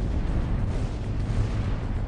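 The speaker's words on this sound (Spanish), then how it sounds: "El ruido de las explosiones parece eternizarse." Bomb explosions aboard the aircraft carrier USS Enterprise come through as a continuous, dense low rumble of blasts and roaring noise, sustained and heavy with no distinct pauses.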